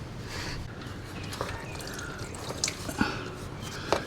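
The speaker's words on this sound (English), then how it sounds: "And that's the oil coming out." Engine oil drains from the sump of a Honda Goldwing 1800, with a faint trickle and a few scattered drips over a quiet background.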